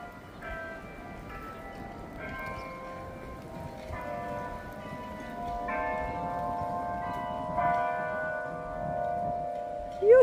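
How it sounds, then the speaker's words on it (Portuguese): A church bell in a town in Kanab, Utah rings in a slow series of about six ringing strikes, each tone hanging and decaying, fairly faint over a steady hiss of outdoor background noise. "E o sino da igreja"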